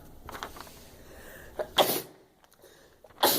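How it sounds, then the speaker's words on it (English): A close, sudden sneeze bursts out after some quiet shuffling, followed moments later by a second sharp sneeze-like burst. "I have to sneeze."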